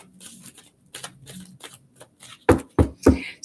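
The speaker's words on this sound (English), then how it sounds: "Give it a good shuffle." Cards being shuffled up close: soft riffling flicks at first, then three loud, crisp bridging riffles snapping together in quick succession.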